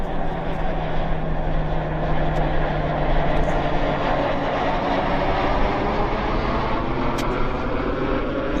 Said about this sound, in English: he looks like he's diving down towards this runway